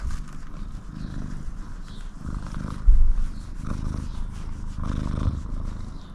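A domestic cat purrs close up in a steady, rhythmic low rumble. There is a brief bump of handling noise partway through, and no speech.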